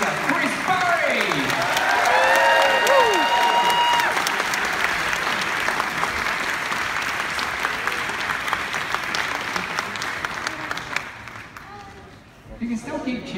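A large convention audience at MCM Scotland 2016 applauds and cheers for Chris Barrie taking the stage, dense sustained clapping with shouts and whoops on top, tapering off near the end.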